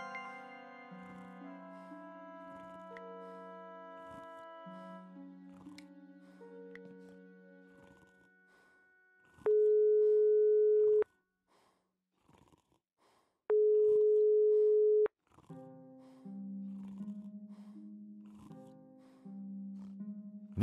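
Unanswered phone call tone in the adventure video game Broken Sword 5: The Serpent's Curse: two long steady ringback beeps sound with a pause between them, set against soft background music.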